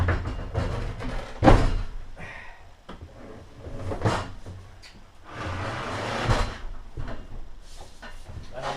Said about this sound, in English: We're taking this perimeter screws off.